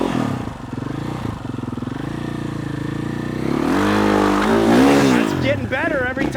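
A dirt bike engine drones steadily and then revs up hard as the clutch is slipped and released during enduro riding practice, loud and close, with a voice speaking briefly over it near the end.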